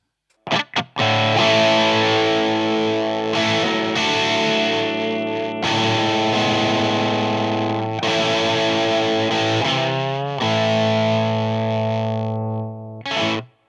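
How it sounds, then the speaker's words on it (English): Heavily distorted electric guitar chords through a StewMac Hotcake Overdrive kit pedal with humbucker pickups, a buzzy, cheap silicon-like fuzz tone ringing out loud and sustained, changing a few times before cutting off. "It sounds a bit like a cheap sort of silicon fuzz there."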